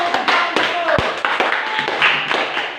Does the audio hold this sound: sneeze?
no